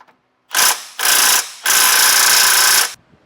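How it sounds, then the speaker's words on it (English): Ratchet turning an 18mm socket on a swivel attachment as bumper bolts come off the frame of a 2023 Jeep Gladiator, heard as three loud close bursts of rapid clicking, the last and longest lasting over a second. "Now we can go ahead and remove the 4 bolts attaching our bumper to our frame."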